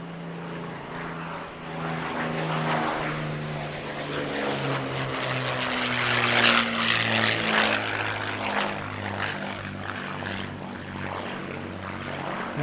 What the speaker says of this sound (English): a pair of P51D Mustangs